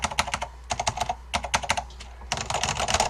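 Rapid close typing on a Focus FK-2001 keyboard with Alps switches and ABS keycaps, dense clacky keystrokes in bursts with brief pauses.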